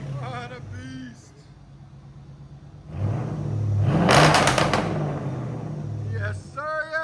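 Swapped 6.4L HEMI in an AWD Chrysler 300 with straight pipes: a loud, rising rev from a rumbling idle that holds high for a few seconds, then falls back, with people talking before and after.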